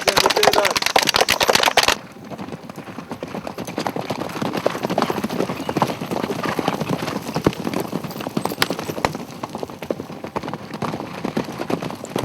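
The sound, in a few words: horses' hooves while riding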